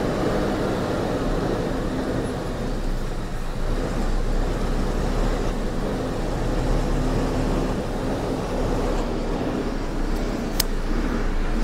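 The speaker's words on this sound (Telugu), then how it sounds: "ట్రాఫిక్ అయితే ఫుల్ ఉంది." Heavy, slow-moving city traffic on a road in Pune, heard as a steady, dense roadway rumble of engines with a low hum, continuous and unbroken with no voices.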